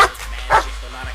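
A dog gives two short yipping barks with a whimpering edge, loud and close, while someone talks in between.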